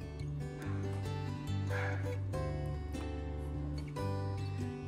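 Several dogs bark in bursts inside a house, sharp yips and bow-wows recurring every second or so over steady background music, fairly close and clear.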